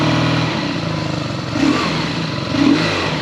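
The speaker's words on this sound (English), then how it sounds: "Let's take it for a spin now with the Jekyll and Hyde exhaust on it." A BMW R nineT motorcycle fitted with a Jekyll and Hyde exhaust idles with a lumpy, close throb, blipped twice by short throttle twists that swell into brief revs.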